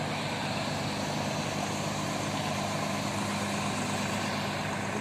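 Bus engine idling at the Tasikmalaya bus terminal, a steady low droning rumble that stays close and unbroken throughout.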